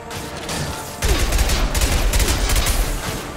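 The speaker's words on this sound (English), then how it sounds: "Firing a high impact shot!" Gunfire in Mass Effect 2 combat: a quieter opening, then from about one second a louder stretch of repeated heavy shots and impacts, close and continuous.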